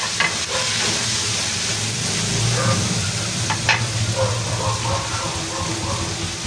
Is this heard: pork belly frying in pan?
yes